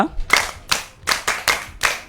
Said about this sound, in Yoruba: Àtẹ́wọ́ bàbá